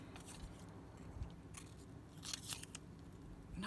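Scissors snip and trim the edge of a paper envelope in faint, crunchy cuts over a low background hum.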